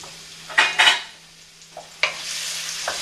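Brief bursts of garlic sizzling in hot oil in a pan, with a couple of stirring scrapes and a steady frying hiss building up toward the end.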